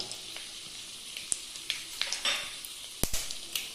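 Chana dal, urad dal and cumin seeds frying in hot oil give a soft, steady sizzle with scattered small pops and crackles, close and fairly quiet, no voices.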